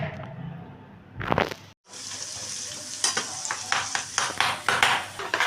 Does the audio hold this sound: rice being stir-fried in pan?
yes